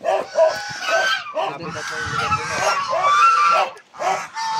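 Chickens or roosters crow and cluck up close and loudly, in repeated calls with short gaps between them. A voice can be heard in the mix.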